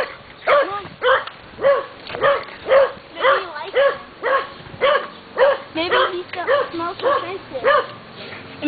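On a trail, a dog gives a rapid run of about a dozen high, evenly spaced yelping barks mixed with whimpers, loud and close, with a faint voice underneath.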